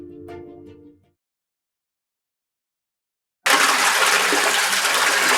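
Water draining out during a water change at a fish farm: after a short sound and a long silence, a loud, steady rushing gush starts abruptly and runs to the end.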